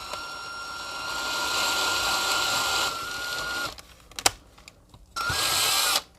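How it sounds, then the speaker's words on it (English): A 9/64 bit drills slowly under moderate pressure into the metal base posts of a Hot Wheels car, a steady whirring grind lasting several seconds, then a pause with small clicks and taps, then a second short burst of drilling. "To drill out the posts, start off with a 9/64 drill bit and just go slow with a moderate amount of pressure"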